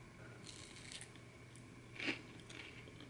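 A bite into a cookies-and-cream chocolate bar with crunchy cookie chunks gives one crisp crunch just past the midpoint, with a few faint crackles around it in a quiet room.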